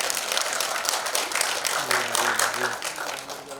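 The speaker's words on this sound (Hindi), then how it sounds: "तालियां बजेंगी तभी तो।" A crowd at a celebrity event with Anu Malik and Udit Narayan claps in a lively, uneven burst, and voices rise briefly over the applause partway through.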